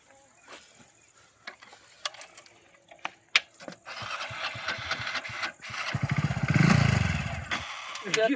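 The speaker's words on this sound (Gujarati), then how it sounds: "હવે બાઈક ચાલુ કરી બ્રો" Keys jingle and metallic clicks, then a motorcycle engine cranks and starts up, running loudly close by.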